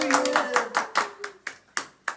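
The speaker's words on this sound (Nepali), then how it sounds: "केक काट्दा हो क्या ताली बजाउनु हो केक काटेको ताली ल" A small group claps by hand at a birthday cake cutting, with several sharp bursts of clapping spread across the moment and people talking and calling out over them nearby.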